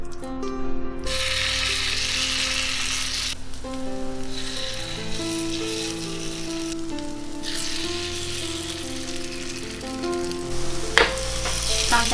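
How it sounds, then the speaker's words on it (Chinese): Pancake batter sizzles in a hot oiled pan over low heat, a steady crackling hiss with soft scraping and tapping from a spatula, close up and with no voices. "然后就可以舀到锅里面来煎了"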